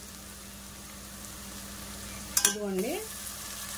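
Sliced onion and ginger garlic paste fry in a pan for goat head curry. The soft, steady sizzle sits low in the background while a voice briefly speaks a single word near the end.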